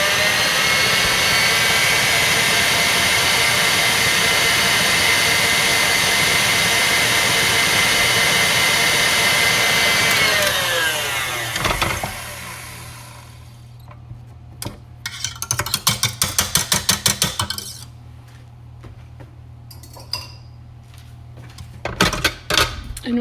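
An electric mixer whirs loudly and steadily through pudding and pie filling, then winds down and stops partway, followed by scattered clinks of utensils against the bowl.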